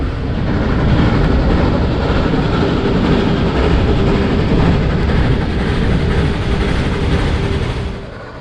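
A Shay steam locomotive rumbles steadily along nearby on a scenic mountain railroad, a dense low mechanical roar with rhythmic clanking, easing off slightly at the very end.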